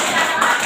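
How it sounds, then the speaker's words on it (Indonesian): A short burst of clapping from a third-grade elementary classroom, a quick patter of small hands lasting under a second, fairly close with no clear speech. "Kita beri tepuk tangan dulu."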